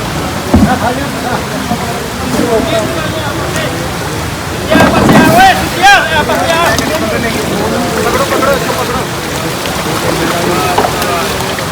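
A boat moves through floodwater in a flood-hit village, a continuous loud wash of churning water and engine-like rumble filling the scene, with voices faintly present.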